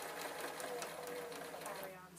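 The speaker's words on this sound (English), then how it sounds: "Carry on sewing." A sewing machine stitches fabric for an old-fashioned memory notice board, running steadily and close up at a moderate level through the whole short stretch.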